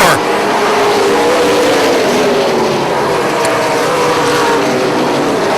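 Super late model stock cars race around an oval track, a loud, continuous engine roar from a close pack with a rising pitch sweep at the start, under a race announcer's commentary.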